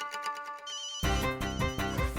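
A phone ringtone in an animated children's cartoon: a melodic electronic tune that plays softly, then bursts louder and fuller halfway through, with no voices over it.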